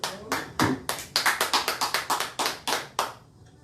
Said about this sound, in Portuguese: Aplauda o Senhor.